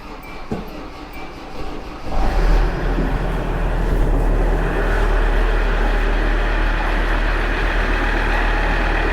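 An old car engine cranks in the cold and catches after a couple of seconds, then settles into a loud, steady low rumble as it keeps running.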